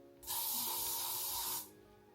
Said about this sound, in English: and then I just spray.